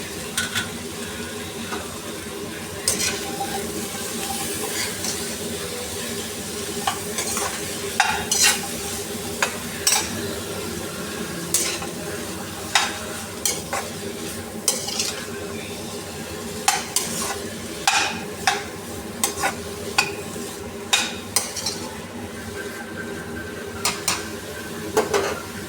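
Sliced bitter gourd sizzling in hot oil in a pan for a palya, with steady frying hiss and repeated scrapes and clinks of a spoon stirring against the metal pan.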